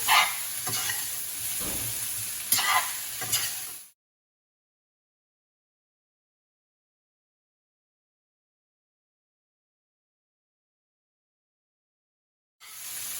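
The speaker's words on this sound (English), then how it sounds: "Just mix it." Boiled potato pieces are mixed in a sizzling pan for potato masala, with scraping spoon strokes over frying noise for a few seconds before a long silence and a short return of sizzling at the end.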